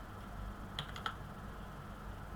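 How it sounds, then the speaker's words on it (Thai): A handful of quick, soft keystrokes on a computer keyboard, ending with an enter press while entering data in accounting software, set over a steady background hiss with no speech. "หากว่าขึ้นเป็นอย่างอื่นเราใส่จุดแล้วกด enter นะคะ"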